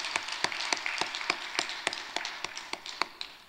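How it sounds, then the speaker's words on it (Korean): Church congregation clapping for the choir, a steady run of sharp claps at an even rhythm, moderately close and fairly faint, with no voices over it. "찬양대 격려와 감사의 박수 한번 하시죠."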